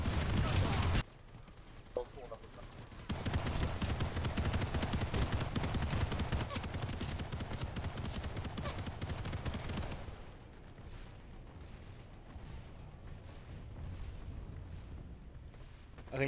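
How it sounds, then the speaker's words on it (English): Sustained rapid automatic gunfire in Planetside 2 during a team infantry fight, loud and dense for several seconds before easing into scattered distant shots, with voices talking over it. "He was shooting the shit out of me. You guys shot him, suppressed him."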